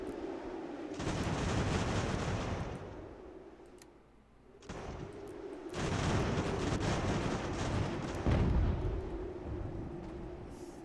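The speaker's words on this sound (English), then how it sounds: "now I hear a gun" Gunfire and booming battle noise from the video game Ultimate General: American Revolution, sustained loud rumbling volleys with a brief lull midway before resuming, no talking.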